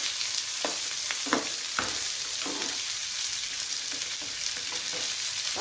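Chopped onions and green chillies fry in a pan during tempering, giving a steady close sizzle broken by soft scraping strokes of a stirring spoon. No talking is heard.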